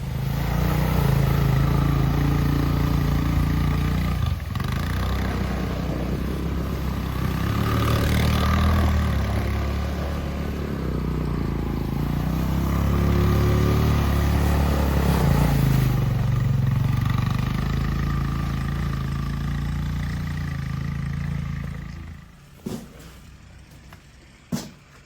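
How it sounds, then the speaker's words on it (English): A tractor engine runs in the snow during a winter storm, a loud, steady low rumble that holds for about twenty seconds, then cuts off, leaving a few knocks and quiet. "So I'm gonna get the tractor and I'm gonna push up a giant pile of snow"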